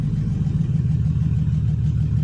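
A 2008 Chevy Express van engine idles high with a deep, rough rumble and a raspy, leaky exhaust note from damaged mufflers, steady and close, with no voices.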